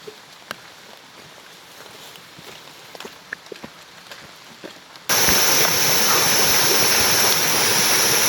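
Rain falls in the early evening on a slippery trail on Mount Kerenceng, starting as faint scattered drips and then suddenly becoming a loud, steady, hissing downpour for the last few seconds.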